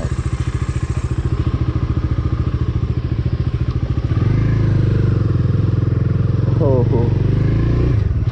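A speed bike motorcycle rides with a steady, pulsing engine note that grows louder and smoother midway, with a brief rising rev near the end, while people talk over it.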